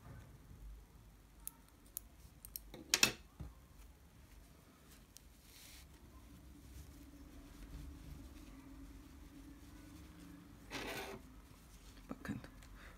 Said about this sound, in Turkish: Kurdalenin ucunu da makasla düzeltiyoruz.